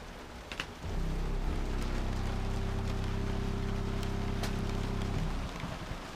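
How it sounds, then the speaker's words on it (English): Rain drums steadily on a moored boat at a marina during a thunderstorm, a dense, continuous patter that swells in after a second and holds for several seconds before easing, with no talk. "Yep, it's raining."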